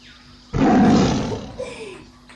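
A loud, close lion roar bursts in suddenly, swells, then trails off in a rumbling growl over a couple of seconds.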